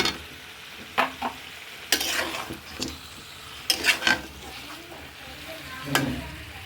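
Potatoes go into mutton rezala cooking in a pan. Low frying sizzle runs under repeated scraping stirs and clinks of a spoon against the pot, with a few louder scrapes in quick bursts.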